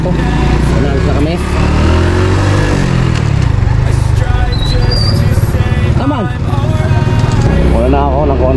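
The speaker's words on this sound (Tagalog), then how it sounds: "Pasok na ng motor na to." A motorcycle engine runs with a continuous buzzing drone throughout, heard close from the ride, while people talk over it.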